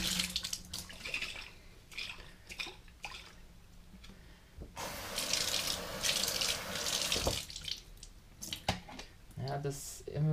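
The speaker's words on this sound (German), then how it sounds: "Und dann machen wir noch ein bisschen Wasser rein." Water runs into a sprouting jar in a burst of splashing flow that starts and stops, surrounded by wet handling noises and brief talk nearby.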